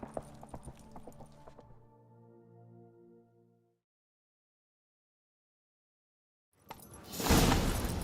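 Hoofbeats of a horse in The Witcher 3: a quick run of clopping at the start gives way to a fading tonal swell. After a silent gap, a sudden loud burst of noise closes the passage.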